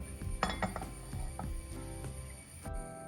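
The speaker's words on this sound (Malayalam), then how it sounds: "ചട്ടി എടുത്ത് സ്റ്റൗമ്മ വെക്കാം." A clay pot is set down on a stove with a few hard knocks and clinks, close and clear, followed by quieter clatter.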